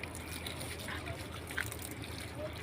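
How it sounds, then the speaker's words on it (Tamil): Water poured outdoors in a steady, close trickle and stream over constant background noise, with faint voices mixed in. "தண்ணி ஊற்றுறோம் இங்கே ஊற்று"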